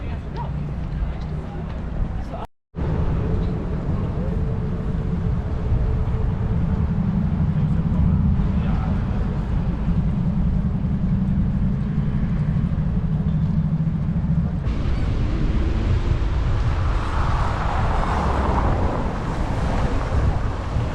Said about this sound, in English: Watch this little boat here going by.